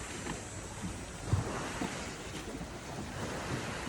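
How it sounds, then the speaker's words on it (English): Rough ocean water churns and crashes in a continuous wash of surf. Gusting wind buffets the microphone, and no one speaks. "Not the soothing sounds of the ocean some people go to sleep to"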